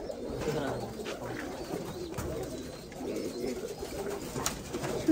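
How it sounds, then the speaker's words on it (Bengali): Pigeons coo softly in low, rolling repeated calls nearby, with faint rustling and background murmur around them. "সুন্দর সুন্দর কবুতর।"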